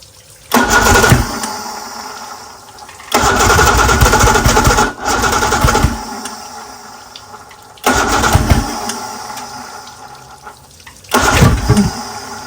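Homemade race outboard motor being pull-started, several loud separate bursts of cranking and sputtering, each lasting a second or two with short gaps between, close to the microphone.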